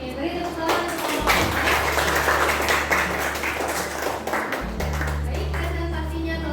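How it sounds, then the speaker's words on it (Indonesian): A class applauds after a group presentation in a physics lesson on ideal gases, with steady, fairly loud clapping from many hands throughout, while voices talk over it and a low hum runs underneath. "Oke, beri tepuk tangan untuk"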